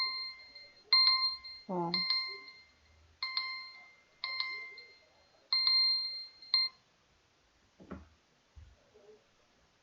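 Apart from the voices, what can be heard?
doorbell chime sound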